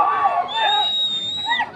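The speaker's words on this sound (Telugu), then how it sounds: "కేకలయ్యాల చప్పట్లు కొట్టాలి మరి రైతు సోదరులారా" A crowd of farmers cheers and shouts together at a gathering in Rayavaram, Nagarkurnool district, a loud, sustained roar with shrill whistle-like cries rising above it; no distinct clapping stands out.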